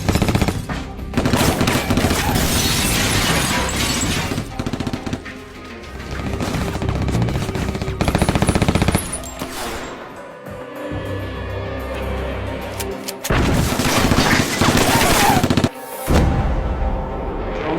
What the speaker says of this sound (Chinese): 正在放哨的特工见状，当即开枪扫射。